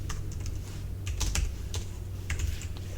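A computer keyboard being typed on to enter a terminal command, brisk clusters of close key clicks with short pauses against a steady low hum.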